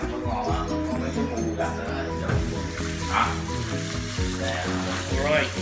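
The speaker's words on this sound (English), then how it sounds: "the basil leaves. Stir, make the smell better." Basil leaves stir-fry with mud crab in a hot pan, a loud steady sizzle with stirring clatter, while a person talks over the cooking.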